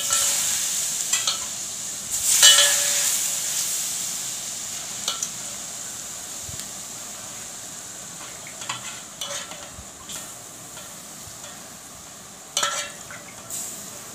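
Masala for mango pickle frying in oil, heard as a soft continuous sizzle with occasional stirring scrapes and clinks of a utensil against the pan. It stays fairly quiet and close, with no talking.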